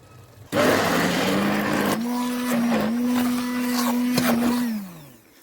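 Close hand blender running with a loud, steady motor whine that shifts pitch slightly mid-run, then spins down and cuts off.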